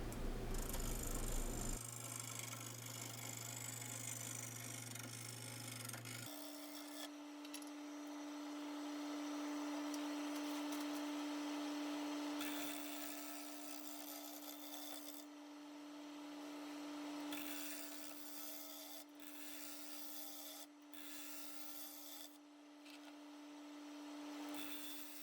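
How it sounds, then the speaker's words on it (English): A wood lathe spins a maple bowl blank at about 500 RPM, giving a steady low drone and whir with rubbing, scraping passes of a bowl gouge laid over it, continuous and fairly loud, with no voices. "I can speed up the lathe. Here I am about 500 RPM."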